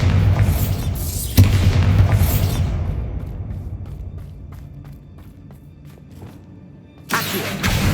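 A Bombarda spell detonates in the Hogwarts Legacy game with a loud booming blast at the start, followed by a decaying rumble that settles into quieter ambience, then another loud burst near the end.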